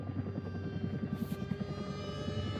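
A helicopter in Still Wakes the Deep thuds with a fast, steady rotor beat and a droning engine hum, loud and close throughout.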